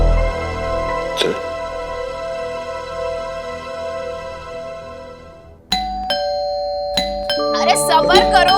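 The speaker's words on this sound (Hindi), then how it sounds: "ऐसी घंटी तो सिर्फ मिन्नी बजाती है।" A doorbell rings out with a ding-dong chime near the start, then rings again repeatedly and insistently in quick bursts toward the end, with people talking around the chimes.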